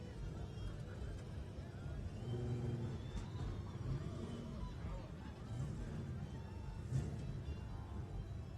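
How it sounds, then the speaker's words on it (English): A Class 7 off-road race truck rolls up along contingency row at the 2017 Baja 500, its low engine rumble faint and steady, swelling slightly a few times against a murmur of background voices. "We got this 7 truck coming up here right now."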